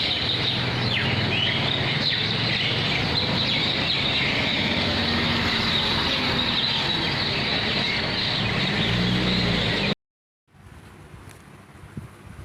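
House sparrows chirp and sing in a dense, continuous chatter for about ten seconds, followed by a short silence and then fainter background sound.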